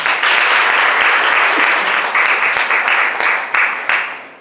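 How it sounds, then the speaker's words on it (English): Rotary Club of Karen members applaud at a club officer installation ceremony, loud sustained clapping from a sizable crowd that stays full before thinning into scattered, separate claps near the end. "Clap for yourself."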